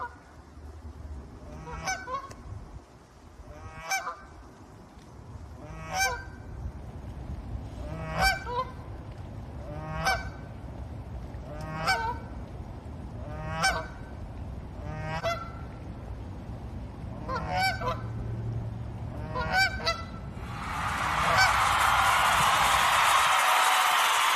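Geese honk outdoors in about ten separate loud calls spaced every two seconds or so over a low rumble, followed near the end by a burst of broad noise.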